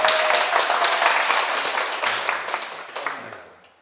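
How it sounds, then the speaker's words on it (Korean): A lecture audience claps in a loud, dense round of applause that holds steady before tapering off and fading out near the end. "덕분입니다로 집착해서 대박 터지게 큰 박수 부탁드립니다"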